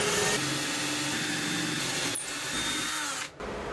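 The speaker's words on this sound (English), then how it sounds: "I'm going to use a 5/16 drill bit and drill into this guy." Power drill with a 5/16 bit boring into a metal mounting plate clamped to a box, a loud steady whine under load, then a short pause and the motor spinning down near the end.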